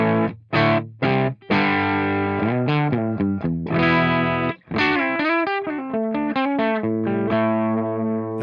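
A distorted Les Paul through Tonex software at minimum gain plays choppy chords and single-note riffs with short gaps, loud and close, with a crunchy amp-like tone and no talking.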